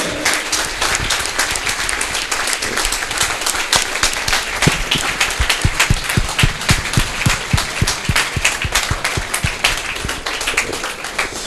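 Audience applause at a gathering in Gujranwala, Pakistan, a dense, loud wash of many hands clapping steadily throughout, with individual sharp claps standing out.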